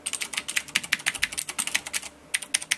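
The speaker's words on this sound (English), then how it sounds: "Now you guys can hear it, but the uh, Black Widow Ultimate is a mechanical keyboard." Fast, crisp keystrokes clatter on a Razer BlackWidow Ultimate mechanical keyboard, close and fairly quiet, with one brief pause before the typing resumes.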